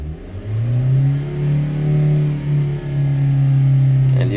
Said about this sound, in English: right now let me step on the gas